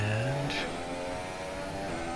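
F1 race car engine in F1 2017 on the Bahrain circuit during a slow warm-up lap, a steady mid-pitched drone with a brief rising rev near the start, loud and continuous with no talk.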